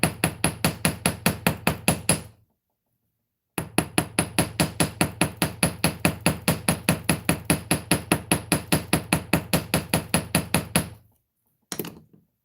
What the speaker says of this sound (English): Then to come through and use a ball peen hammer for some texture.